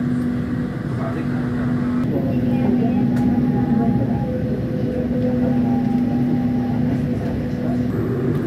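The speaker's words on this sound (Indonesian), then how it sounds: "Kereta api Mutiara Selatan sudah diberangkatkan dari stasiun Surabaya Gubeng tepat pada pukul 18:20." KA Mutiara Selatan night train departing Surabaya Gubeng, a continuous loud rumble of the carriage on the rails with a steady low drone and faint higher tones, heard from inside.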